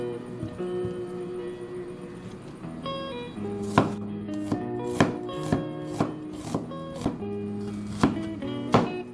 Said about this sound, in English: 2 smallish onions that I'm going to cut lengthwise.